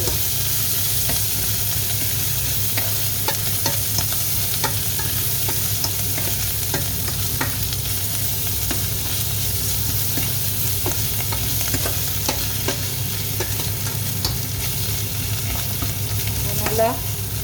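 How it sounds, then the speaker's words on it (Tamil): Ginger garlic paste sizzles steadily in a hot pan while being stirred, with a dense, loud frying hiss and frequent scraping stir sounds close by. "போட்டு இப்படியே நல்லா பச்சை வாசனை போகும் மட்டும், இஞ்சி பூண்டு பச்சை வாசனை போகும் மட்டும் தாளிச்சுவோம்"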